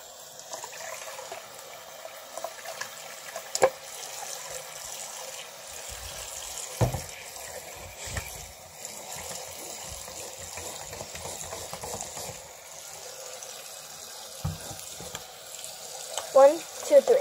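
Tap water runs into a sink while a dirty Littlest Pet Shop toy is washed, a continuous hiss of flowing water broken by occasional splashes and knocks.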